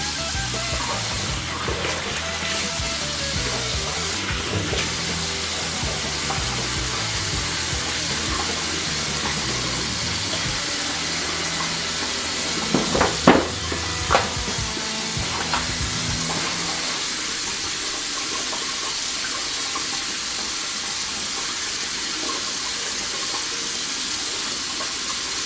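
Tap water runs steadily into a bathroom sink while a face is rinsed during a wet shave, a continuous close hiss with a few brief splashes and clatters midway, no voices.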